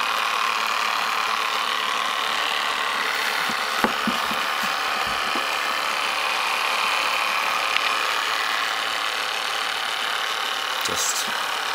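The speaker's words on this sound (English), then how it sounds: "The VHS tape is slowly going back up into this wheel." A Kinyo VHS rewinder spinning a tape back onto its reel gives a steady, even whirring hum, with a few faint clicks and knocks scattered across the run.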